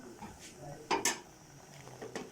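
A utensil clinks and scrapes against a pot of boiling vegetables for noodles, with two sharp metallic knocks in the middle and softer stirring around them, fairly quiet overall.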